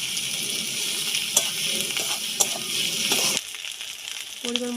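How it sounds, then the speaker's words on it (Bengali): Ginger garlic paste and tomato fry in a pan for a prawn curry with a close, steady hiss and a few sharp stirring ticks. The sizzle cuts off abruptly partway through, leaving a quieter tail. "টমেটো আর আদা রসুনটা ভালো করে কষিয়ে নেব।"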